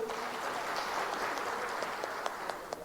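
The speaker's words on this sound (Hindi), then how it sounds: "चौहान जी के लिए जोरदार ताली।" An audience at a public inauguration and foundation ceremony in Bhopal gives Madhya Pradesh Chief Minister Shivraj Singh Chouhan steady, dense applause, with a few sharper individual claps standing out near the end.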